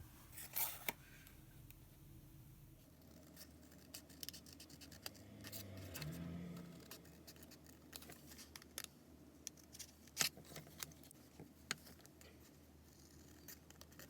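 Scissors cut slowly through paper along a drawn line for a paper craft gingerbread house, a faint, close series of soft snips and scratchy rustles with small clicks and no talking.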